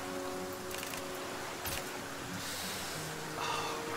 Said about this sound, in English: this rain is not helping at all